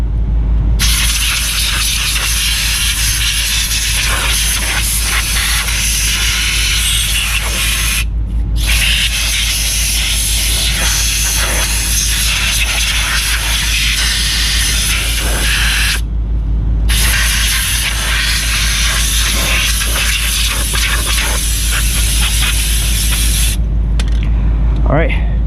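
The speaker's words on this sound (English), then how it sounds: "Spray all this dust." Steady, loud hissing spray runs almost continuously close by, cleaning dust off rear brake parts of a 2009 Audi Q7, broken by a few short pauses, with a low rumble underneath.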